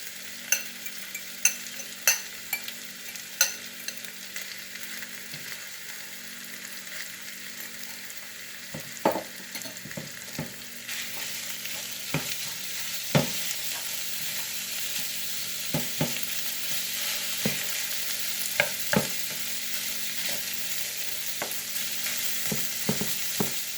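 Ground beef sautéing in a pan for shepherd's pie, a steady close sizzle with repeated sharp clicks and scrapes of a utensil stirring against the pan throughout.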